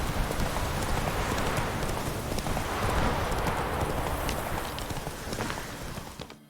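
Roach the horse gallops in The Witcher 3, a steady rapid clip-clop of hooves that stays loud and close throughout, over a dense wash of ambient game noise.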